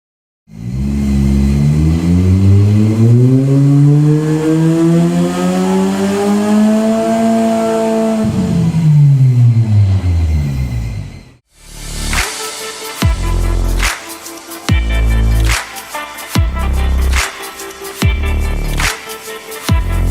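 A Honda Civic VTI engine on a dyno climbs in one long rising wide-open rev for about ten seconds, then lifts off. Music with a strong beat follows.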